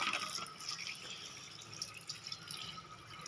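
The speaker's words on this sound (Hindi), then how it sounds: "अब ये देखिए मैं इसके अंदर पानी डालता हूँ, ये पानी" Water pours into a laptop part held over a wash basin, a steady, moderately quiet splashing and trickling that runs for a few seconds with no talk.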